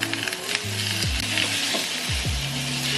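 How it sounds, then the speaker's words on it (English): Onions and aromatics cooking in a hot pan, a bright continuous sizzle close up, with a few low thumps and sliding scrapes from a utensil stirring through. "I'm gonna slowly cook the aromatics a little bit"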